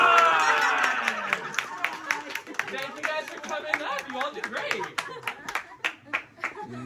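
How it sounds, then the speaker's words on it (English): A small tour group at a mystery-spot attraction claps for participants, a loose scatter of individual claps that thins out over several seconds while someone speaks over it. "And can everyone give them a round of applause?"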